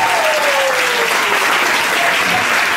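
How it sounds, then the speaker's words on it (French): A church congregation applauding during a Sunday service, dense and loud clapping that stays constant throughout, with a faint voice or tone briefly audible beneath. "Mais ça a été trop faible, votre acclamation."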